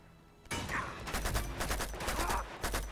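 Uncharted 2 gunfire rattles in fast, dense bursts, close and sharp, filling the short moment with rapid repeated shots.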